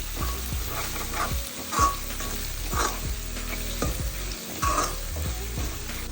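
Tomatoes fry in a pan of spicy Andhra-style crab curry, with a steady sizzle and repeated scraping stir strokes at an irregular pace, close and moderately loud.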